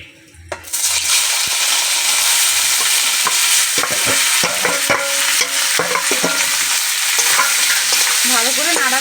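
Marinated chicken for momo filling hits a hot wok with a little oil and sizzles loudly, then keeps frying steadily while a utensil scrapes and clinks against the pan during repeated stirring.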